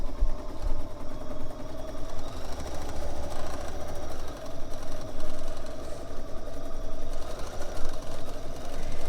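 A sewing machine runs steadily along the edge of a Celtic quilting piece, a continuous close, loud motor hum and stitch rattle with no pauses.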